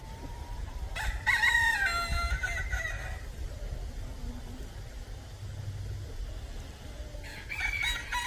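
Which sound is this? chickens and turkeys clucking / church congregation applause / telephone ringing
chickens and turkeys clucking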